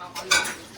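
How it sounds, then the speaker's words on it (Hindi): Kitchen utensils and dishes clatter in a single quick metallic clank, close and bright, over a faint background. "बर्तनों की आवाज कर रही है बहुत तेज तेज, जब से लगातार।"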